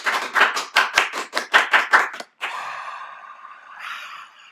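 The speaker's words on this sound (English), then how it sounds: "Round of applause." About a dozen sharp, evenly spaced claps ring out close by, a small round of applause closing a talk, then stop abruptly before a softer, drawn-out vocal sound trails off.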